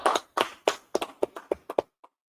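An audience at a biblical law class in Fayetteville, North Carolina claps in sharp, separate beats, about nine uneven claps close together, then falls silent.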